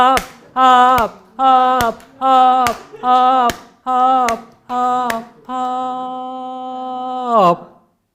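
Sharp, loud group claps in a steady rhythm at a workshop talk, each hit cutting between a group's sung, sustained 'la' tones, the final note held long and alone.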